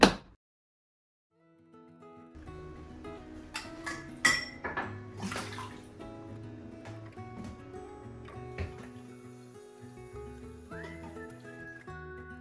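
Dishes being put away in a home kitchen: plates and cutlery clink and clatter in irregular bursts, some sharp rings standing out, over faint background music.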